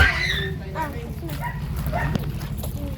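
A dog barks and yips in short bursts close by, mixed with ongoing talk and household noise.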